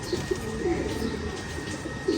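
Ferozpuri pigeon at a home loft in Bangladesh giving a few short low coos, spaced out and fairly faint against constant room hum.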